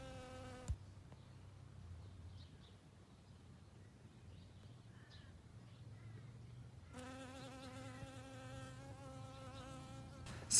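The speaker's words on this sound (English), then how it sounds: "let that little bee say hello" Bee buzzing in a garden, a steady, fairly close drone that rises and falls in pitch as it moves around, with occasional faint birdsong in the background.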